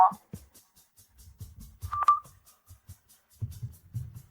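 A phone call rings out with no answer, a few sharp electronic tone bursts standing out against quiet gaps and low muffled rumbles.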